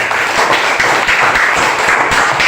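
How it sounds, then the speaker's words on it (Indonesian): Dense, steady applause from a group in a classroom setting, many hands clapping together loudly and continuously without pause. "Tepuk tangan dulu"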